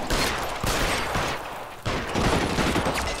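Thompson submachine gun fire crackles in dense, sustained bursts during an L.A. Noire shootout, loud and continuous with a brief break in the middle and no speech.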